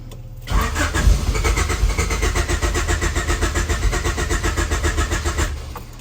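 A turbocharged Honda H22 engine in a CB7 cranks over at first startup after a no-start fault, a loud, close, rapid rhythmic chugging of the starter that runs steadily for about five seconds before cutting off.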